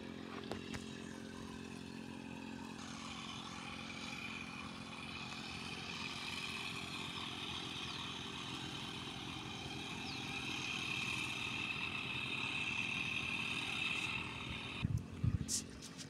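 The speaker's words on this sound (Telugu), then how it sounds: "ఇప్పుడు మందైతే స్ప్రే చేస్తున్నాం." An engine-powered sprayer applying pesticide on a farm field, a continuous faint motor drone with a steady whine throughout and a few brief knocks near the end.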